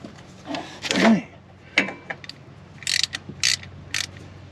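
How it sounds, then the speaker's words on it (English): A ratchet works loose a screw on a 2024 Yamaha Wolverine X2 1000 side-by-side, sounding as several short, close metallic clicking bursts with brief pauses between them, mostly in the later half. "So I pulled the first screw out."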